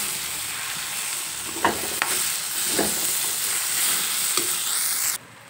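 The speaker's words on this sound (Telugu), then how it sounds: "ఇప్పుడు బాగా కలుపుకోవచ్చు." Turmeric and ginger-garlic paste are stirred in hot oil in a pan, a steady close sizzle with a few sharp scrapes and taps of the spoon, ending abruptly after about five seconds.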